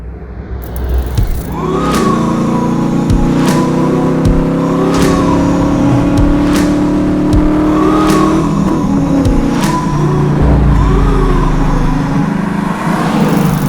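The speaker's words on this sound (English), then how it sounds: "I drive a 1995 TVR Chimaera 400" A 1995 TVR Chimaera 400 sports car's engine runs with a loud, steady, close-up drone at a constant pace, with faint regular ticks recurring over its whine.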